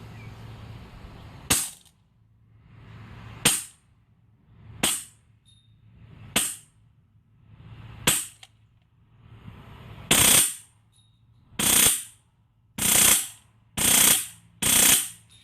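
Wolverine SMP v2 solenoid-driven airsoft gun with a speed trigger, firing about ten sharp, close single shots. The early shots come at spaced intervals and the later ones are louder and come quicker.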